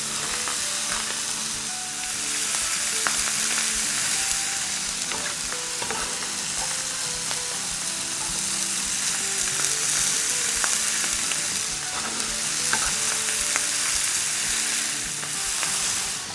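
A meat sizzler platter sizzles and crackles loudly and steadily throughout, with scattered pops and no talk.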